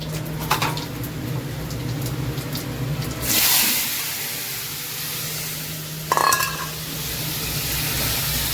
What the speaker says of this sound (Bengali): সর্ষের তেল দিয়ে দিয়েছি, তার মধ্যে দিয়ে দিয়েছি শুকনো লঙ্কা আর হচ্ছে বেশি করে 5 ফোড়ন দিয়ে এবার টমেটোগুলোকে ভেজে নেব